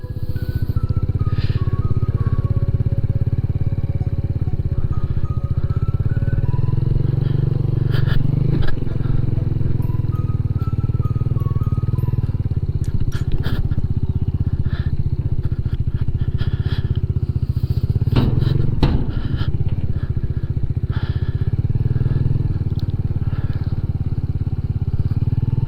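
A small motorcycle idles and rolls steadily onto a skate grind rail, its engine drone constant and close, broken by a few scraping clunks and thumps as it hits the metal.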